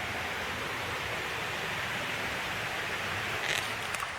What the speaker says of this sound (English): There's a river down there. Can you hear it?